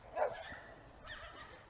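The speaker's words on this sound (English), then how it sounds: "Ooh, puppy dogs." Small puppy dogs give a couple of short, high yips and whimpery barks, fairly faint and close, with no talking over them.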